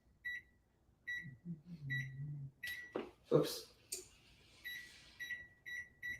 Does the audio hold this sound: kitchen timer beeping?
yes